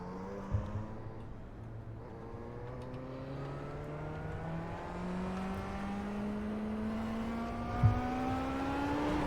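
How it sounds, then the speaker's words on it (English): Dallara IR-05 race car in iRacing, its engine droning and rising steadily in pitch through a long wheel spin, with two brief sharp knocks near the start and end. "Got a wheel spin there."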